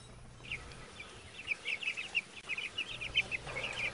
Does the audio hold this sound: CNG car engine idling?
no